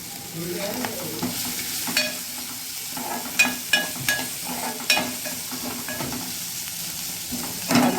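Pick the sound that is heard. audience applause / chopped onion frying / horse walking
chopped onion frying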